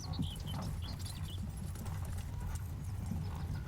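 Steady clip-clop of horse hooves trotting at a regular pace, close and continuous, with a brief whinny near the start.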